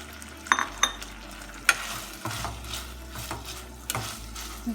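Cooked chicken and medium capsicum in a pan for white sauce pasta, a soft low sizzle broken by several sharp scrapes and clinks of a spoon stirring against the pan, fairly quiet and close.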